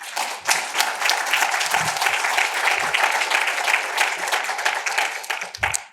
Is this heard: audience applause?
yes